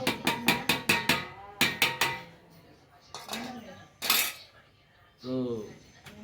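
A pestle pounds coconut chutney with green chillies and jaggery in a stone mortar, quick series of sharp knocks in bursts, close and loud, with a voice speaking briefly in between.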